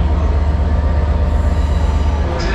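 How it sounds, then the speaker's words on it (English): A train pulls into a station, a loud close rumble of wheels and carriages with faint squealing, steady throughout with no talk. "Just waiting to go on the train"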